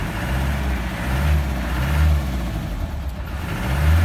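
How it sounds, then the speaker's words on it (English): A 1990 Land Rover Defender 90 engine revs up several times in broad low rumbling swells, close by, with the idle settling between bursts. "Let's give it a couple revs before we sign off."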